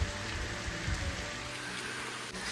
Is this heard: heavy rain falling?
yes